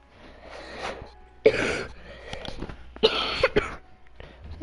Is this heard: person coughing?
yes